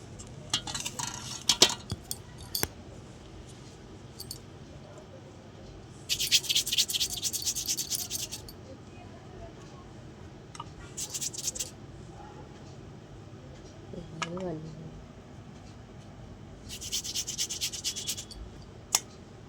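Rice dough being hand-rolled into small chushi pieces for dudh puli, soft rubbing and scraping strokes, quiet and close, rising in a few louder gritty bursts between calmer stretches, with no voices.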